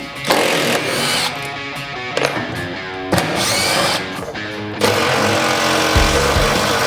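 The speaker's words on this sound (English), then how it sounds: "So I'll take the bolts out right now." Power tool whirring continuously up close while removing the trunk tub bolts inside a Jeep JK, loud and grinding with several short bursts and shifts in pitch.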